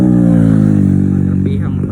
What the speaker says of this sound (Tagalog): Grabihang padagang motor ay.